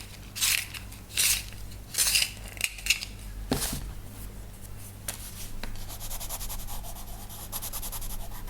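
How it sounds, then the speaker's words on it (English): Coloured pencil being sharpened while shading a family crest in a colouring book: three or four short, close grinding bursts of scraping, then a steadier fine rasping texture. "Need to sharpen my pencil again."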